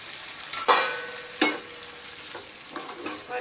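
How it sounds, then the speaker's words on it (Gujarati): Spicy chilli sambharo is stirred in a pan with lemon juice, giving two sharp scraping strokes over a light sizzle, then softer stirring sounds, close and alone. "ફરીવાર મિક્સ કરી લઈશું।"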